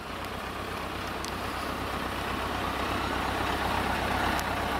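Tractor engine running near a grain yard in the rain, a steady loud low diesel rumble that stays even throughout with no talk.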